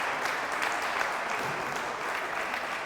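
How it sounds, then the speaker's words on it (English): Steady round of applause from socially distanced parents in the stands at a girls' high school basketball game, honoring five seniors on the floor; dense, even clapping throughout with no voices standing out. "As the 5 seniors on the floor getting a round of applause."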